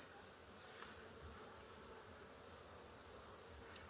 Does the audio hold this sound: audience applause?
no